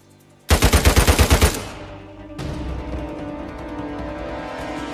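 A burst of rifle fire in Uncharted 4, about nine rapid, loud, evenly spaced shots in quick succession, followed by a ringing tail and then a steady background of game ambience and music.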